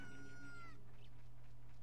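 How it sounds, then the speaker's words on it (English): Rooster crowing in The Legend of Zelda: Ocarina of Time, a single bright, descending synthesized crow over steady game background music, fading out after the first second. "Cock-a-doodle-doo."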